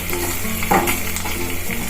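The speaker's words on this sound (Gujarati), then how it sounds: "અને આપણે જે છે આ ખાંડવી એમાં આપણે વઘાર બધો નાખી દઈશું" A tempering for khandvi hisses and sizzles in hot oil with green chillies and sesame seeds, a dense continuous fry with a brief louder spatter burst.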